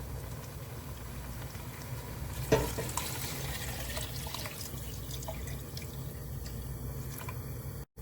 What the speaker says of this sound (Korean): 여기에 물을 부어줍니다